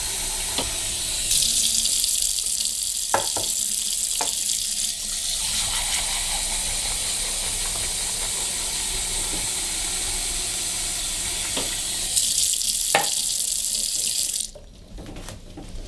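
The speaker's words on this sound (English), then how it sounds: "I'm just going to go ahead and put warm water in this bowl." A kitchen tap runs warm water steadily into a bowl, a continuous close splashing hiss that lasts almost the whole time with a few small knocks, then cuts off near the end.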